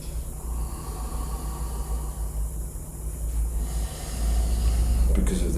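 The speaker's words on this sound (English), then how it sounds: "See why that's an Ujjayi breath." Ujjayi yoga breath drawn through the nostrils, a soft, steady hissing airflow with a chesty rasp, close and fairly quiet, swelling slightly louder toward the end.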